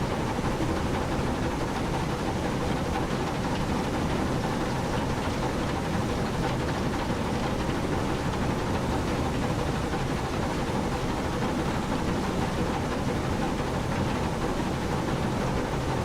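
A train sound pulled up from an online search plays as a steady, unbroken rumbling roar with broad noise, constant in level for about sixteen seconds, with no talking over it.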